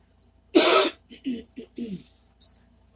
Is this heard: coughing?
yes